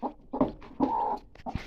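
A brooding hen clucks softly in short, close bursts over her newly hatched chicks, with faint peeping mixed in and no talk.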